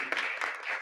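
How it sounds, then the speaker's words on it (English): Brief audience applause for young artists at a Chinmaya cultural program, a dense patter of many hands clapping at moderate level, short and steady without voices. "A big round of applause to all our young artists."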